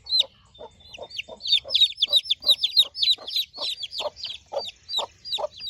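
Broody hens cluck in a steady series of short, close calls, with higher chirps from newly hatched chicks mixed in above them.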